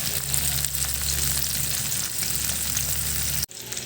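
Bitter gourd (ampalaya) dropped into a pan with browned garlic, giving a loud, steady, close sizzle of frying that continues without a break and then cuts off abruptly near the end.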